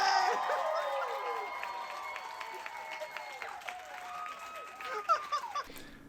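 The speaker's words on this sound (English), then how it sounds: "the loudest applause of the entire show was Kelly poking out and just saying hi" Applause from an audience at a live show on a touring stage production, a steady wash of clapping and crowd noise with some voices mixed in, fading near the end.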